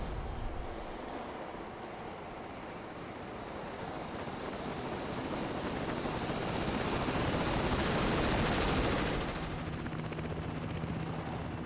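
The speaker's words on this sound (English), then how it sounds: "Again with the helicopter" Steady, loud helicopter rotor roar from the Ninja Gaiden video game, a continuous broad drone that swells slightly and then eases off near the end, with no speech.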